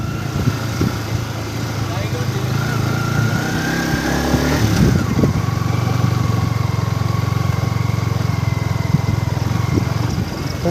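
A motorcycle engine rumbles close and steady on a rough off-road mountain trail toward Panchpokhari, with its pitch shifting briefly as it revs midway, while people talk over it.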